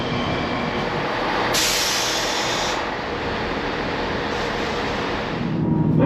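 Aboard a Northern train crossing the Pennines, a steady rumbling roar of wheels and motion fills the carriage, with a brighter hiss swelling briefly and the noise staying constant throughout, no voices.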